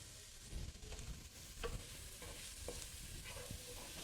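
A spoon stirs a pot of tortilla lentil soup with black beans, corn, tomatoes and tomato juice. It makes quiet, intermittent scraping and sloshing strokes over a soft simmering sizzle, close and low in level.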